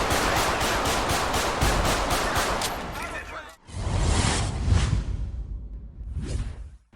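Rapid bursts of gunfire in a GTA LSPDFR police shootout during a high-speed pursuit, loud and repeated for the first half, then a swooshing rush and scattered shots after a brief drop-out.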